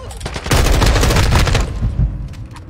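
Rapid automatic gunfire in a Call of Duty Modern Warfare II multiplayer match, a dense, loud burst of shots close by for over a second before fading into scattered distant rounds.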